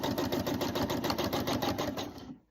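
A sewing machine runs steadily, stitching through a layered quilt for a Peppermint Starlight pattern, with a fast, even mechanical chatter close by that stops abruptly at the end.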